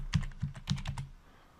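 Typing on a computer keyboard: a quick cluster of about ten crisp key clicks in uneven bursts, close and distinct, trailing off into quiet.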